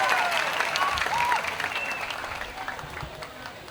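Spectators at a men's sepak takraw match between Myanmar and Singapore applaud, a crowd's clapping and cheering that starts strong and gradually tapers, with a commentator's voice faintly over it.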